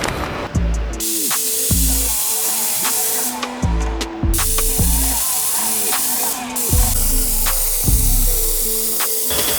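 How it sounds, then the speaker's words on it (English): A line marking paint machine sprays white paint in a warehouse, a continuous loud hiss of pressurized spraying throughout, with a mechanical engine hum and intermittent clunks underneath. "jumping on the paint machine, getting some white down"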